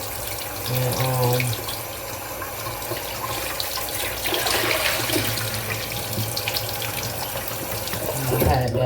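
Kitchen faucet runs steadily into a sink as lemons are rinsed, a continuous close splashing stream throughout, with a brief spoken word near the start.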